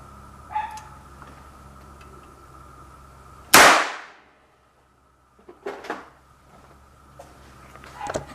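A very loud homemade cap gun fired with a shotgun primer gives one sharp, booming crack that rings off briefly, followed by a few quieter clicks and handling sounds, with no voices.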